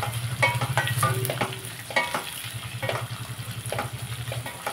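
Onions frying in a pan, a steady close sizzle with scraping and stirring clatter from a utensil, no talking.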